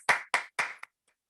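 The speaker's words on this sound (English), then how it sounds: "round of applause for all our beautiful contestants" Three sharp claps followed by a fourth lighter one, close and distinct, then silence, as a round of applause for the contestants at an online Toastmasters club meeting.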